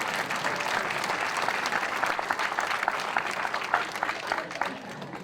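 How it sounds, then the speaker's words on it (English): A room of audience members breaks into steady, moderately loud applause, a dense wash of hand claps sustained evenly and tapering slightly toward the end. "Producers, did you hear that timed applause?"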